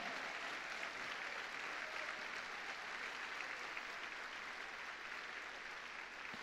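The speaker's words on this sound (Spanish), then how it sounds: "Dele fuerte ese aplauso al Rey de la Gloria" A church congregation at a Sunday morning service applauds in a steady, even wash of many hands that holds for the whole stretch, fairly soft and without clear individual claps.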